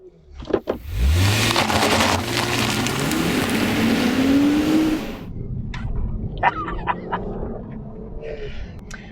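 A Lexus IS 350 F Sport with a 3.5-litre V6 and 8-speed sports direct shift gearbox accelerates hard, its engine note rising steadily through the revs for several seconds before the roar cuts off and fades into quieter clicks and road noise.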